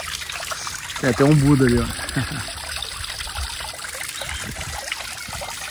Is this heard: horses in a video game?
no